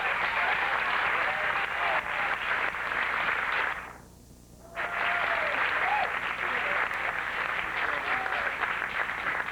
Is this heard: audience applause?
yes